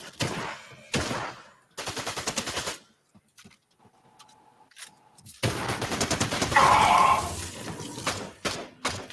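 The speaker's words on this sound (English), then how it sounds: "Machine gun." Machine gun fire in a video game, with rapid bursts of rattling shots coming in several loud volleys separated by quieter gaps and a faint tone in the middle.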